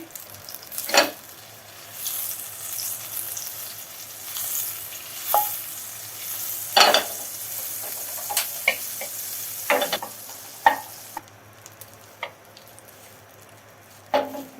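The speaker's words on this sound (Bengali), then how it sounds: "বাটারটা দিয়ে দিলাম" Butter melting and sizzling in a cooking pot on a stove for white-sauce pasta: a soft, steady frying hiss broken by occasional sharp clicks and scrapes of a spoon against the pot.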